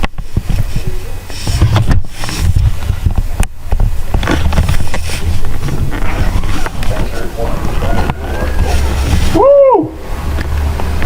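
Hurricane Sandy in Maryland: strong, steady wind roars and buffets the microphone with a loud, continuous rush, with water noise beneath it and a voice exclaiming near the end.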